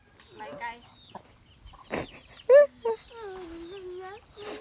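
Chickens on a Thai farm cluck close by in short bursts and squawks, with a person softly talking and coaxing them between the calls.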